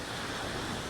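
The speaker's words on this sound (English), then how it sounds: "So from here, where the waves are crashing" Ocean surf at Indian Harbor Beach, a continuous broad wash of crashing waves mixed with wind noise buffeting the microphone, steady and fairly loud, with no voices.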